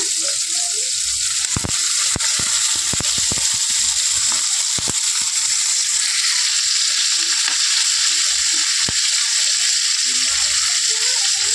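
Green chillies and tomato fry in a pan with a continuous loud sizzle, punctuated by irregular sharp scraping and stirring clicks from a utensil.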